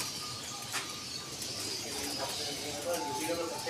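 Diamond doves cooing in a large breeding setup of many pairs, soft repeated coos and chirps close by, with a voice talking over them.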